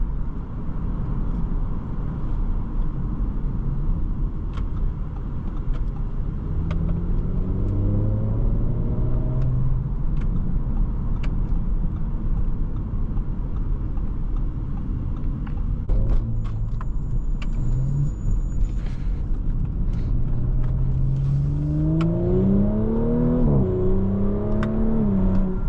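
A 2022 Audi S5 3.0T Sportback driving with a steady interior road rumble as its engine revs rise and fall through several accelerations, heard from inside the cabin.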